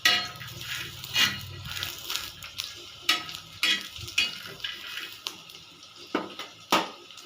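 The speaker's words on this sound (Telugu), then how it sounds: "గ్యాస్ ఆఫ్ చేసుకొని వేడి పెన్నం పైన పుట్నాల పప్పు వేసుకోవాలి" Roasted gram dal (putnala pappu) tossed and stirred in a hot pan with the gas turned off. Close, repeated dry scraping and rattling strokes come in an irregular rhythm, with no voices.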